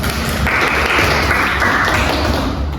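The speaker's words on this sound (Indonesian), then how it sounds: "Berikan aplaus dulu untuk kelompok 1." A classroom applauds a student group after its presentation, with dense, loud clapping that fills the whole stretch.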